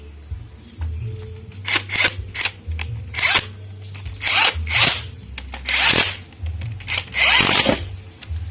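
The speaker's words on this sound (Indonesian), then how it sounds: "Terus kita pasang baut, terus kita kencangkan." Power-tool bursts tightening a bolt on the cover of an old Colt steering worm gear during reassembly, several short whirring runs with pauses between, fairly loud and close.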